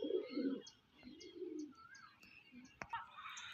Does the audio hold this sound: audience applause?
no